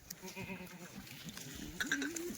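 Kathiawari goats bleating from a delivered truckload of milking goats, several wavering bleats in close succession with a louder, rising call near the end, fairly near and moderately loud.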